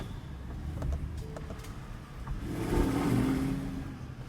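A Mercedes-AMG car engine idles with a low, muffled rumble, then revs. A deeper, fuller swell builds partway through before easing back down, heard fairly quiet and close.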